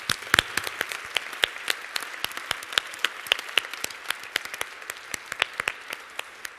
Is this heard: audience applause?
yes